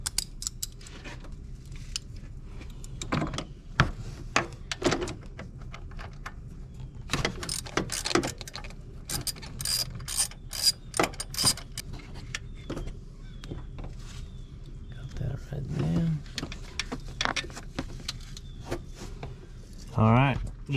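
Mechanic's 13 mm socket ratchet working loose the alternator bolts on a 2010 Cadillac SRX, giving scattered clicking and clacking bursts close by, mixed with handling clatter in the engine bay.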